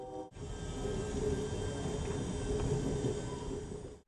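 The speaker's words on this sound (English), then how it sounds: "Now we're moving away from the train station." Amtrak Sunset Limited passenger train pulling away from the Houston station, heard from on board as a steady low rumble of rolling wheels and car noise with a faint high whine, continuous after a brief quiet start.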